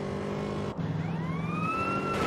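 A police siren wails nearby in rising and falling sweeps, its tone briefly dipping and then climbing again, with no voices over it.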